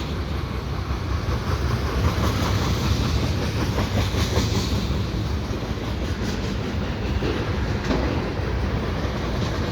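A CN mixed freight train passes close by, a steady loud roar of wagons with rhythmic clickety-clack of wheels over rail joints continuing throughout, no talk.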